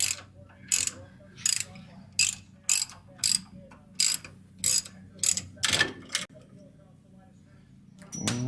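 A socket ratchet clicks in about nine rapid bursts, loosening a wheel stud on the axle of a 1957 Chevy delivery, with a quiet pause near the end before a final burst of noise.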